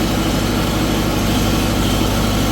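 Tata Cummins 30 kVA super silent generator running under full load, a loud, steady droning engine hum with a dense low throb and broadband hiss, continuous and unvarying throughout with no voices.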